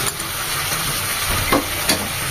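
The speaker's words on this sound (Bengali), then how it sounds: "মশলার সাথে চিকেনগুলো কষবে" Chicken pieces being stirred and fried with spices in a pan for a Bengali kosha chicken curry, a steady close sizzle with a couple of brief scraping stir strokes near the end.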